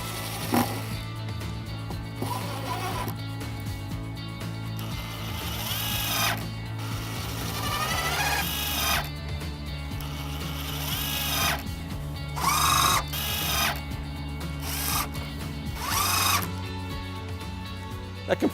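A power drill driving two screws into a gable being fitted with aluminum fascia, its motor whirring loud and close in several bursts that rise and stop, with steady mechanical hum between.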